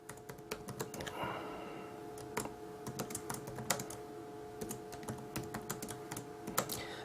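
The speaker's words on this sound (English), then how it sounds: "So I can type something here." Steady typing on a computer keyboard, a quick irregular patter of key clicks with occasional louder strokes, close and fairly quiet over a faint constant hum, no voices.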